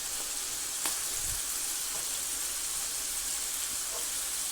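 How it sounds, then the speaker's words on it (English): A soft, steady sizzle of chicken wings deep frying in hot oil, continuous and fairly quiet, with a few faint clicks and bumps. "Look at the chicken wings. It's still frying."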